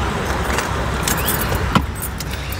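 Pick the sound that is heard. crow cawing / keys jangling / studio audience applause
keys jangling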